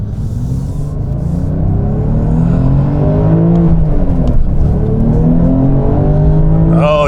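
A twin-turbo 2023 Porsche 911 Sport Classic roars loudly as it accelerates in second gear, its pitch climbing steadily through the revs with a rising whirring turbo whine layered over the rumble.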